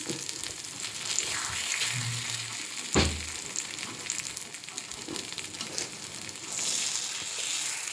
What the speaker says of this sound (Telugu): ఇలాగ అన్నీ తిప్పించుకోవాలి